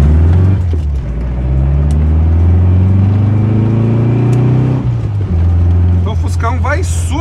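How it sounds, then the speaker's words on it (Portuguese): A Volkswagen Beetle's engine hums steadily as it drives in the rain, loud and near, with a shift in tone partway through and a voice at the end. "Fuscão na chuva, tem que tomar cuidado"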